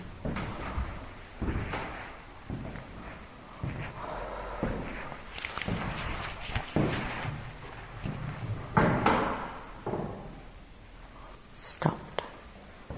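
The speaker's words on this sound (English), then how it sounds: "It's like slow footsteps" Slow, dull footsteps thud at spaced intervals inside Bamburgh Castle, mixed with knocks and creaks like doors or drawers, while people whisper over them.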